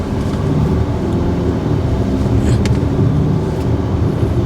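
A Volvo luxury car pulling away under gentle acceleration, giving a steady, smooth, broadband engine and road rumble that stays even throughout with no talk.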